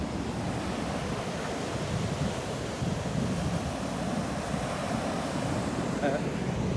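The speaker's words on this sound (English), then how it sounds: "What do you think of the ocean?" Ocean surf at a beach, steady broad roar of breaking waves with wind buffeting the microphone, continuous and fairly loud throughout.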